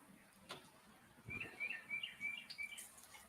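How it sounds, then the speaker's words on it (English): Small birds chirp outdoors near someone cooking breakfast, quick high tweets in a loose run against faint background noise, moderately distant and fairly quiet. "Birdies are out chirping."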